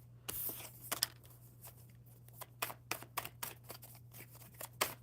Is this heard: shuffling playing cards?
yes